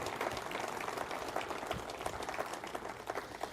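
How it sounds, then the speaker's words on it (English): An audience at a lecture gives a round of applause for the camera operators, producing a steady, fairly faint wash of many hands clapping that keeps going for several seconds with no speech over it. "would you give them a round of applause"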